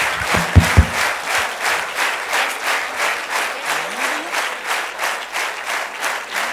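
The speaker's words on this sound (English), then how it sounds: "Can I have a huge round of applause all the students?" An audience at a panel discussion in Pune applauds students with loud, sustained clapping in a steady, swelling rhythm, a couple of sharp knocks near the start.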